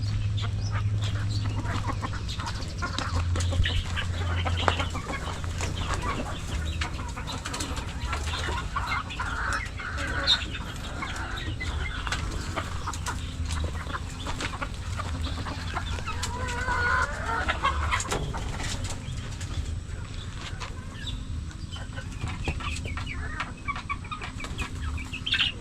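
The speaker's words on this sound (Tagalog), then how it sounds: "Ating mga manok." Chickens on a farm cluck steadily alongside a few rooster-like calls over a constant low hum, with a brief flutter of wings and a distant voice now and then.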